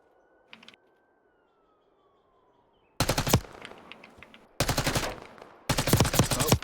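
Submachine gun fire from Black Ops 6 ranked play: three loud, dense bursts of rapid automatic shots in quick succession, preceded by a quiet stretch with a faint tone and a brief click.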